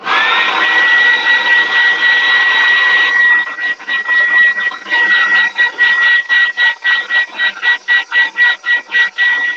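A hot-air heat tool blows steadily to dry a mixed media pendant, a continuous loud whoosh that turns into quick rhythmic pulses as the airflow is waved back and forth or switched on and off.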